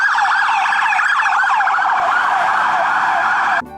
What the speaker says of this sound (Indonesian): Selanjutnya ada satu mobil polisi lagi teman-teman.